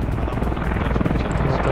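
A helicopter in the Squad video game thumps and roars steadily with dense, rapid rotor chop, fairly close and continuous throughout.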